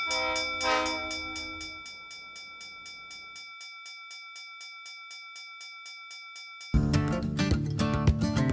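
A crossing bell rings in a steady, even rhythm on a road through sugarcane country near Home Hill. A very long train then roars in suddenly, close and loud.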